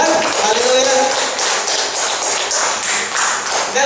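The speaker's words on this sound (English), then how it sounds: "Can we give again a clap of praise to our God?" A church congregation claps together in praise, a dense, steady wash of many hands close and loud throughout.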